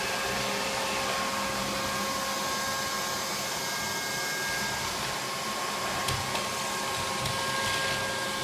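Neato Botvac 85D robot vacuum cleaner running steadily, a fairly quiet continuous motor whir and brush hum with a few faint clicks near the end, alone without talk.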